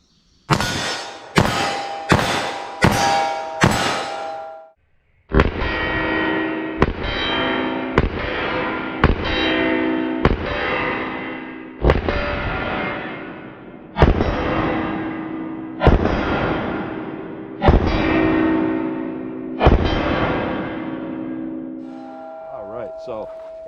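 A .44 Magnum revolver firing Federal HST ammunition booms with a quick string of sharp shots, then a long series of loud, evenly spaced blasts, each ringing out before the next.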